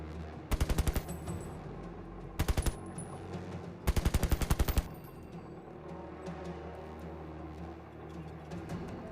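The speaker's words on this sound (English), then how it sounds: "you all just hear distant gunshots or muffled gunshots" Bursts of gunfire crackle in three rapid volleys, each a quick string of sharp shots with a muffled, distant quality over a low rumbling room tone.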